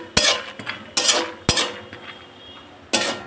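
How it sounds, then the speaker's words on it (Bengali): Nuts fried in oil in a pan over a low gas flame are stirred, giving several sharp clinks and scrapes of a utensil against the pan at uneven intervals, with only a faint sizzle beneath. "বাদামগুলো এবার ভেজে নিচ্ছি।"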